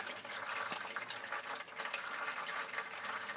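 Old transfer case fluid draining from a Jeep YJ, a steady continuous trickling pour of liquid heard close and alone, with no talk over it.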